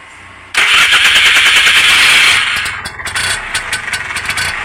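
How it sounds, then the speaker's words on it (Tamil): A Bajaj compact auto rickshaw from 2014 cranks on its self starter and fires up, the loud starter whine jumping in suddenly, then settling into a close, chugging idle with uneven pulses. "இப்போ நான் திருப்பி செல்ஃப் போட சொல்கிறேன் பாருங்கள்."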